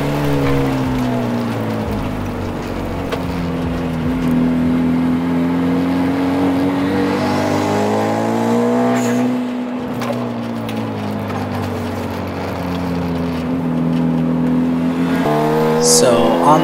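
A Genesis car on a race track revs hard and accelerates past a Civic, its steady engine drone rising and falling in pitch as it closes in and overtakes, loud and close throughout.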